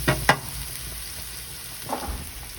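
Shallots warm in a pan with broth for risotto, giving a soft, steady sizzle broken by a few sharp scraping stirs of a utensil near the start and again near the end.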